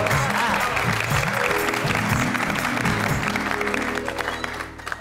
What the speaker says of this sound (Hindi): इसी बात पे बापूजी के लिए जोरदार तालियां हो जाए।